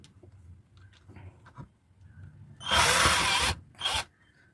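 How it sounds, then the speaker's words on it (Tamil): An INGCO 12V cordless drill running in reverse to back out a screw, giving a loud, close whirring burst of about a second followed by a shorter spin, after a quiet stretch. "இப்போ அதே மாதிரி இந்த ஸ்க்ரூவை நம்ம கழட்டலாம்."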